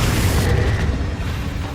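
A Confringo fire-blast spell explodes in the video game Hogwarts Legacy as a dense, loud, rumbling boom that sustains for nearly two seconds with heavy low-end roar.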